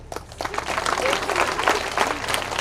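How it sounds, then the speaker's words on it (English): A school audience in India breaks into dense, close applause that rises quickly and holds loud and steady, with faint voices mixed into the clapping. "Here you can clap."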